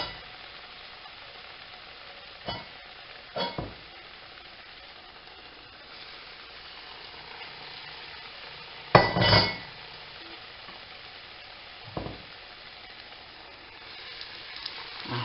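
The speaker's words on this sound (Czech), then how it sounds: "Začneme smažit." Sweet patties fry in hot oil in a pan with a steady hiss, broken by a few clinks and scrapes of a utensil against the pan.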